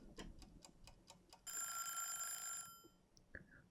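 A kitchen timer in a cooking video game ticks in a quick, even series of clicks, then rings with a bright sustained bell tone for about a second before stopping, followed by a couple of faint chimes.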